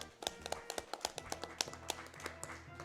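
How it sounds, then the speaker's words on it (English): Applause from a gaming charity marathon audience during a Shadows of Adam speedrun event, a quiet scattering of hand claps with an irregular rhythm, fairly faint, with a low background hum underneath. "This is where you applaud people."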